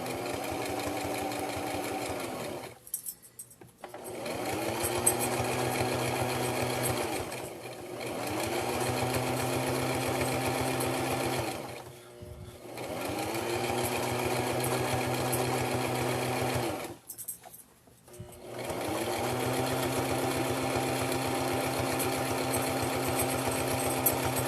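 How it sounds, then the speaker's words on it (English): Sewing machine stitching fabric for an envelope pillow case, running in several steady bursts of a few seconds each with brief pauses between as the fabric is guided; close and loud, with no talking. "I'm just keeping it lined up with my sewing foot there, and making sure that my needle is not going to go off the side of my fabric there."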